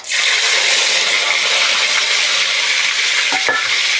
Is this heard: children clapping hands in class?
no